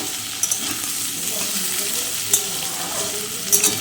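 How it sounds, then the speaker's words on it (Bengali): Beetroot and carrot pieces fry in a pan under a steady sizzle, stirred now and then with a few clinks and scrapes of a utensil, heard close up. "সবজিগুলো ভালো করে নেড়ে দেবো কিছুক্ষণ পর পর আমি ঢাকনাটা খুলবো ঢাকনাটা খুলে আর সবজিগুলো নাড়বো"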